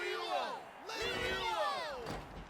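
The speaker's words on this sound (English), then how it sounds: "Hear that? The exhilarating cheer." Tournament crowd in the video game Genshin Impact cheering and whooping, a loud sustained swell of many voices rising and falling across the moment with energetic shouts.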